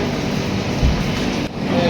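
Low, steady rumble of the Garib Rath train standing at New Jalpaiguri (NJP) station platform, with faint background murmur and a brief dip near the end.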